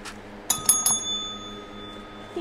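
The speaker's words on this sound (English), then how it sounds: "I don't even know where my bell is." A small desk bell, likely a bicycle-style ring bell, struck three times in quick succession with bright metallic rings that decay into a lingering tone over quiet room noise.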